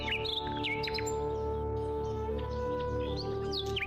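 Cartoon-style birdsong for a quiet village morning, with several birds chirping and tweeting in quick bright phrases over a steady tonal background hum, moderately loud and close.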